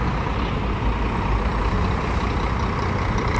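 Pássaro Verde bus with older paint livery at the Belo Horizonte bus station, a steady broadband diesel rumble close by, continuous and even in level with no voices.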